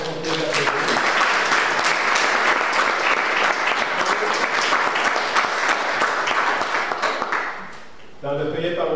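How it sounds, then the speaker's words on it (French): A large church congregation applauds steadily for several seconds, dense clapping that fades out near the end, with a voice starting afterward. "Je pense qu'on peut les applaudir."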